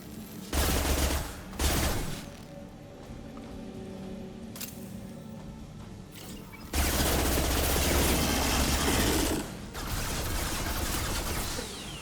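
Machine gun fire rattles in a firefight in the video game Mass Effect 2, with sustained loud bursts, a couple of sharp heavy blasts early on and another long intense volley later.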